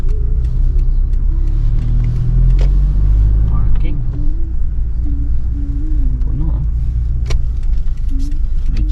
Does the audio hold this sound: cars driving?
yes